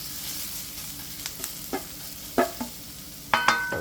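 Garlic sizzles steadily in a hot pan for chicken lo mein, a constant close frying hiss broken by several sharp scraping knocks of stirring, with no voices.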